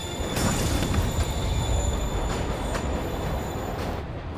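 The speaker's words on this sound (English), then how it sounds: "Train moving. Li's getting away." A video game train in Marvel's Spider-Man rumbles steadily nearby, a continuous low roar with faint metallic squeals and rattling as it moves off.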